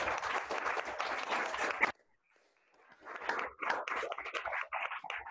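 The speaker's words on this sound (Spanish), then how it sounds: "Un aplauso." Audience applause at a talk event, a dense burst of clapping that cuts off abruptly, followed by a short silence and then a second, more scattered round of clapping.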